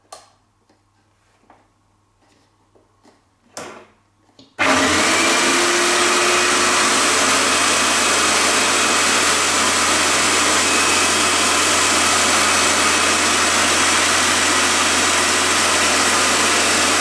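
A Wagner Control Pro 250M airless paint sprayer sits silent for a few seconds, with a few faint clicks. Then it starts abruptly into a loud, steady, unbroken motor and pump roar.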